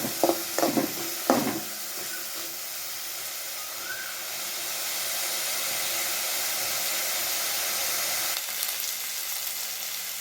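Pirandai (adamant creeper) and other thuvayal ingredients sautéing in a pan: a few clattering stirs at the start, then a continuous even hiss of frying that carries on steadily with no voices.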